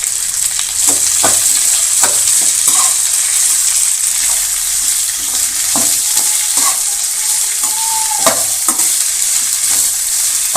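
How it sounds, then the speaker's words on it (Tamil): Curry leaves, onion, green chilli and tomato sauté in a pan, giving a continuous loud sizzle broken by repeated scraping stirs and clinks of a spoon against the pan. "கருவேப்பிலை வெங்காயம் பச்சை மிளகா அப்புறமா தக்காளி ஓகே இப்போ நல்லா வதக்கிங்க"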